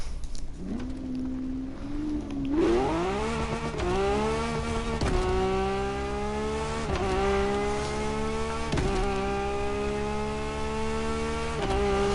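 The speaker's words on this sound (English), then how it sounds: "This thing sounds like an Aventador if it was double clutch" Sports car engine in the racing game The Crew Motorfest revving up through rising gears, a loud close whine climbing and dropping at each quick shift, steady and sustained with no talk over it.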